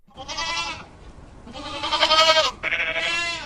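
Goats bleat close and loud in three long, wavering calls, the middle one the strongest, with short gaps between them and no voices.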